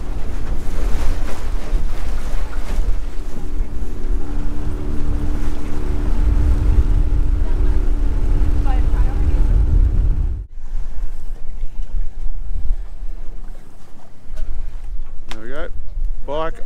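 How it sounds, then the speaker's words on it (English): Stiff wind buffeting the microphone at a beach in Kalbarri, Western Australia, a loud, constant rumbling roar, easing briefly partway through before gusting again, with a voice speaking faintly near the end. "the wind's a bit stiffer today compared to yesterday"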